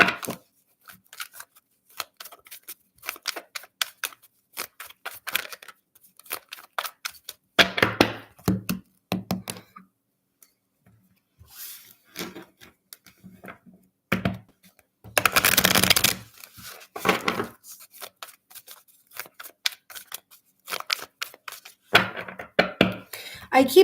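Cards are shuffled in repeated riffling bursts with pauses between, close up, including one longer rapid riffle midway; occasional soft voice underneath.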